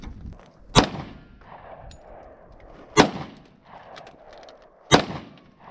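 Gunshots ring out at an outdoor gun range, three loud sharp reports evenly spaced about two seconds apart, each with a short echoing tail over faint background noise.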